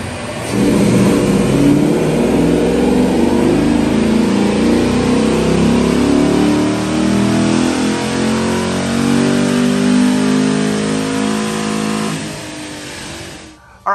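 A 2016-2022 sixth-generation Chevrolet Camaro running E85 flex fuel with a cold air intake pulls hard, its engine note climbing steadily through the gears, loud and close inside the car for about twelve seconds before backing off.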